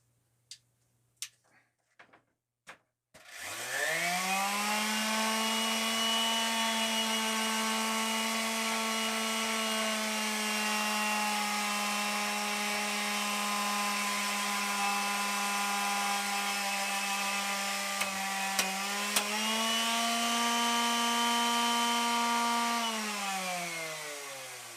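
DeWalt D26441 quarter-sheet palm sander with worn brushes, a few taps first, then its motor spins up and runs steadily loud for about twenty seconds, pitch sagging and recovering briefly near the end before winding down slightly.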